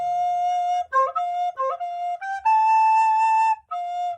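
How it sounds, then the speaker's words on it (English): A recorder plays the opening measure of I've Been Working on the Railroad in swung eighth notes, clear pure tones moving in a lilting long-short rhythm, close and alone with no talking. "So the first measure would sound like this with the swung 8th notes."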